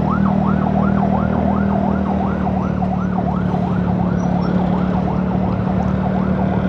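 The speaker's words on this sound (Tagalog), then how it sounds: "May ambulansya sa likod." An ambulance siren wails, rising and falling in a steady, repeating cycle over constant low traffic rumble and engine drone on a busy road in Cavite, Philippines, loud and close throughout.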